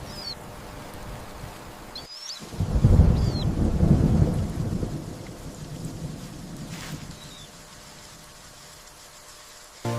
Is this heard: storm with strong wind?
yes